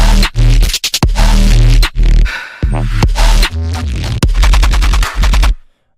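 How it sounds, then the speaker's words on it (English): A synthesized sine wave driven through heavy distortion in a production session, loud and buzzing with a thick low rumble, pulsing in choppy stuttering bursts with abrupt gaps before cutting out at the end. "It's basically just a sine wave with a lot of distortion."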